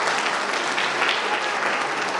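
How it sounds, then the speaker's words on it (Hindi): Seminar audience at a large RCM business meeting breaks into loud, dense applause, a continuous wash of many hands clapping steadily without a break. "एक बार शानदार ताली हो जाए।"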